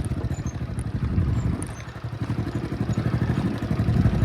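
A 15-year-old Honda CB110 motorcycle with a never-opened, factory-condition engine runs steadily nearby, a low rhythmic putter with faint rattles, loudness swelling and easing slightly as it goes, no talk.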